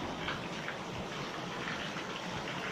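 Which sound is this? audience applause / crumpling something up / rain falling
rain falling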